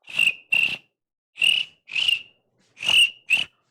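A human voice imitates crickets chirping, giving six short, shrill chirps in three spaced pairs, near and fairly loud, with silence between them.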